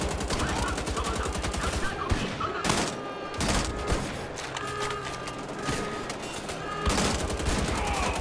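Dense enemy gunfire in Wolfenstein: The Old Blood, with rapid repeated shots and bursts crackling over a loud, busy combat backdrop while someone talks in French.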